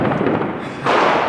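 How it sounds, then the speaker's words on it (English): Fireworks popping and booming somewhere out of sight on New Year's Eve, a dense continuous rumble of bursts heard from the streets, growing louder near the end. "somewhere there's a fireworks display, but we can't find it"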